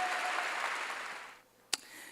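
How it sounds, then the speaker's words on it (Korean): A church congregation applauds during a sermon with a steady wash of clapping that fades away, followed by a single sharp clap or knock near the end. "박수로 하나님께 영광을 돌리고"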